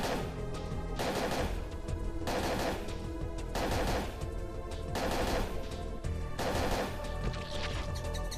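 Rifle gunfire in Parasite Eve 2 comes in loud repeated bursts of rapid shots, roughly one burst every second or so, separated by short gaps, with no talking.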